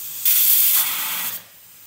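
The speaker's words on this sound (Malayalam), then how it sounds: "1 വിസിൽ പോയിട്ടുണ്ട്" A pressure cooker venting steam while rose apples cook, a loud close hiss that bursts on suddenly, holds for about a second, then drops away abruptly.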